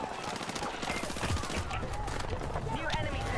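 Gunfire in Battlefield 6 rattles in rapid automatic bursts, loud and close, with steady shooting throughout and a voice speaking over it.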